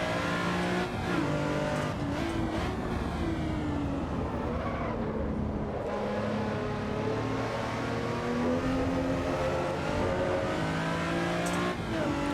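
A race car laps the Donington GP circuit in Assetto Corsa EVO: a steady, loud engine note rises and falls through gear changes over twelve seconds, with no break in the sound.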